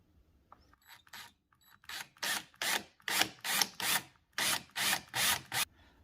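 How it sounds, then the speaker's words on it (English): A power drill bores pilot holes for door hinge screws in an interior door, heard as a series of about ten short, even whirring bursts with brief pauses between them, close up and alone. "Now I'm going to create the pilot hole here for each of the screws to go into."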